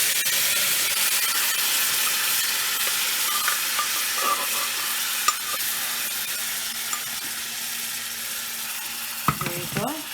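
Pressure-cooked beetroot and potato sizzle steadily in a pan with turmeric, a continuous frying hiss with occasional stirring scrapes and clinks near the end.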